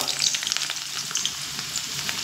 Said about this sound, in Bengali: তেল আমি গরম করে নিয়েছি। এবার এখানে যে সবজি আমি কেটে রেখেছি তার থেকে কিছুটা সবজি আমি ভেজে নেব।